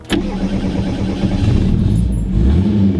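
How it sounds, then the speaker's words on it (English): A 1978 Fiat X1/9 engine cranks and catches, then settles into a loud, close, rough idle with a slight rise in revs, heard alone without talk. "let's fire it up and go for a little drive"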